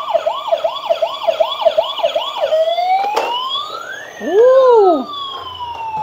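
A toy fire truck's electronic siren wails in fast repeating sweeps, then slows into a long rising tone and a pair of brief low whoops, loud and close with no talking.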